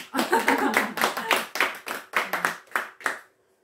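A small audience claps at a lecture on children's learning, about a dozen distinct rhythmic bursts close by that slow and stop after a few seconds, with no talk over them.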